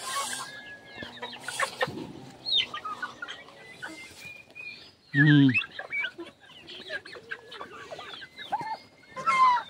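Turkeys cluck and squawk close by in short bursts, with one loud burst of calls partway through and a brief murmur of voice.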